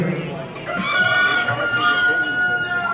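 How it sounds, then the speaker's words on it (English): A rooster crows at a bird auction, a harmonic cock-a-doodle-doo that rises and is drawn out. Faint background voices and farm noise sit beneath the crow. "he thinks that one is a rooster"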